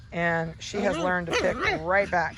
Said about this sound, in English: You can hear all the puppies barking.